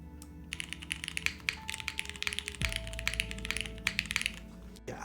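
Mechanical keyboard with linear MX Black switches on a polypropylene plate, typed close up in quick irregular bursts of crisp clacky keystrokes with occasional deeper thocks, over a faint electrical hum.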